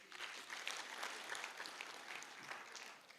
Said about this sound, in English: Let's take 3 hearty claps for our presenters.